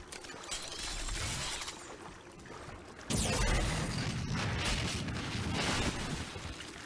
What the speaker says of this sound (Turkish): Üstümüze düştü, patladı pezevenk ya.